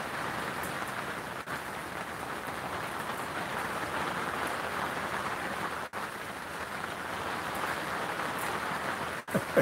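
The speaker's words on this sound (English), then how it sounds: "It is starting to rain more here." Steady rain falls outside, a constant even hiss of drops on surfaces, moderately loud and unbroken throughout.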